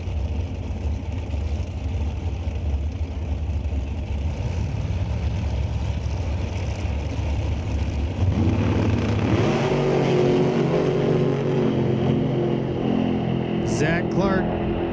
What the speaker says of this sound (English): 2018 Miller dragster.